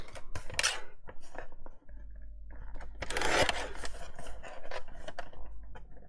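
A 3x4 card being cut down to size with scissors at a craft desk, a few crisp snips and papery rustles in separate bursts, close and fairly quiet.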